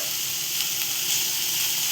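Boiled pasta goes into a hot pan of vegetables for an Indian-style sweet corn vegetable pasta, giving a steady, close hiss of sizzling that stays even throughout without talk.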